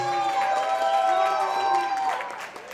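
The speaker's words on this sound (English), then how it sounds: "Give her a big round of applause." Wedding guests applaud and cheer after the bouquet catch, a lively crowd din with scattered voices and music-like tones running steadily, then easing slightly at the end.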